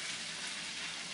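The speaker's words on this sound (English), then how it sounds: "You can hear that sizzling." Cold leftover basmati rice frying in a hot pan, giving a steady, close, dense sizzle with no speech.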